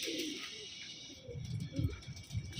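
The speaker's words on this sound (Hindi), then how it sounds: "एक जोड़े का ये नर है, प्योर गुर्दे वाले और राजन वाले कबूतरों का कबूतर है भाई।" Soft, low coos from a male pigeon of the Rajan breed repeat in short murmuring bursts, close by, over a faint steady background hiss.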